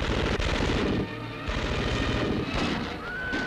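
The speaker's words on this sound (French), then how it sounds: "Une fusillade éclate sur le parvis de Notre-Dame." Gunfire erupting on the square in front of Notre-Dame in Paris in 1944, a dense, crackling fusillade of shots close by and loud, with no break across the whole burst.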